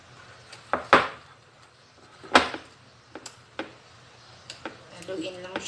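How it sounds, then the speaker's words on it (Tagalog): Hot cake batter with melted butter being stirred in a bowl to break up lumps, a few sharp utensil knocks against the side and soft scraping between them, with a voice talking over it. "Haluin lang siya para mawala yung namumuo"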